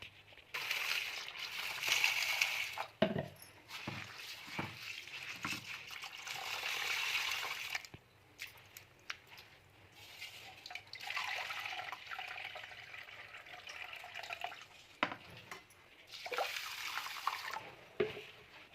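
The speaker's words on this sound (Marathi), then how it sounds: "स्वच्छ पाण्याने मी हे धुवून घेणार आहे" Urad dal, chana dal and fenugreek seeds being rinsed by hand in clean water, with steady sloshing, swirling and trickling broken by splashes and drips, close and moderately loud, with no talking.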